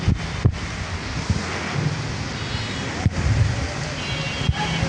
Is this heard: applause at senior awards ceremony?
no